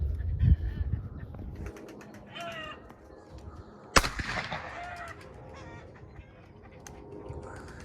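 Tumbler pigeons are flushed upward into flight at a breeding loft, with a sharp burst of wing flapping near the middle over outdoor background noise and faint bird calls.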